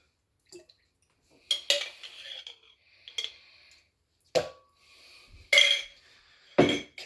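A spoon scoops chia seeds for a smoothie, making a few separate light clinks and scrapes against the container, with quiet pauses between the taps.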